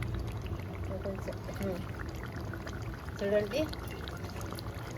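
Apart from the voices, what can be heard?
water being poured into a pressure cooker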